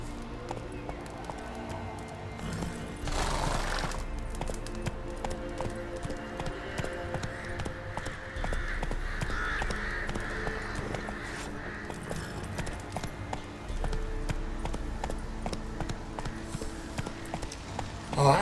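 Steady clip-clop of horse hooves trots along in a regular rhythm in the video game The Witcher III: Wild Hunt, with a low hum of background music or ambience underneath.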